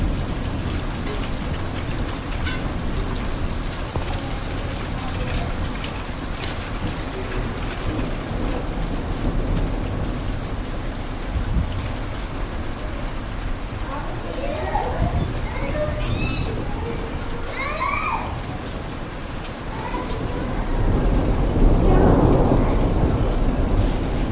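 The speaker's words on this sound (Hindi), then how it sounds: "ओलावृष्टि हो चुकी है।" Heavy rain pours steadily during a hailstorm on farmland, with rumbles of thunder rolling through. The downpour swells louder near the end, and faint voices may sit beneath it.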